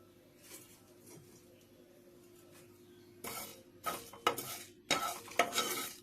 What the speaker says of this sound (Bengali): এই শুকনো লঙ্কা পাঁচফোড়ন মৌরি একটু ভালো করে কাঠখোলায় ভেজে নেব